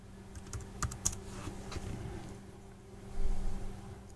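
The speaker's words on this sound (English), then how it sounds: "I'm typing the password that I used to set up this database user." Password being typed on a computer keyboard, a quick run of soft, close key clicks with a slightly busier burst near the end, over a low steady hum and no voices.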